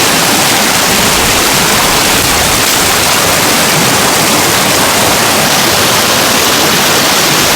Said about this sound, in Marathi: दोन्ही नद्या एकत्र होऊन आता प्रवाह पुढे खूप वाढल्या